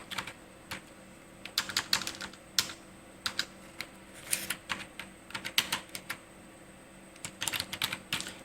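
Close keyboard typing on a computer while entering data into accounting software: irregular bursts of crisp keystrokes with short pauses between them, no voices.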